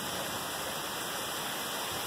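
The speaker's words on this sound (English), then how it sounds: "Okay, I'm getting rained on." Steady rain pours down during a storm as a continuous dense hiss close by, with no voices.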